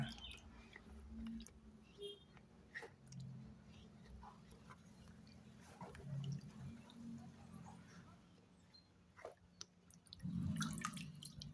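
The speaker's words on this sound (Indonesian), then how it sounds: "Kemudian akan saya cuci dulu telenan ini supaya tercampur ke dalam air rendaman" A cutting board is washed in the water used to soak chicken feet while making amino acid liquid fertilizer. Faint splashes, drips and soft knocks come at irregular intervals, with a slightly louder splashing burst near the end.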